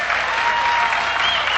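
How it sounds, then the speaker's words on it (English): A crowd at the 1996 PBT World 8-Ball Championship final applauds in a dense, loud burst of clapping that holds steady for the whole moment. "Well, I tell you, the crowd responds"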